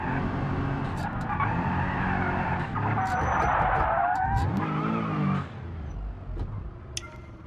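A truck drifts in the BeamNG driving game, its tires squealing and skidding in long rising and falling sweeps over engine noise. The squeal peaks midway, then eases into quieter driving.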